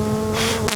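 Bees buzz steadily and close around a beekeeper in a bee suit, a brief, dense droning hum with no talking.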